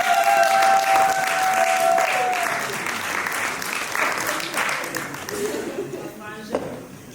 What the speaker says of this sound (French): On applaudit pour les frangins, mesdames et messieurs.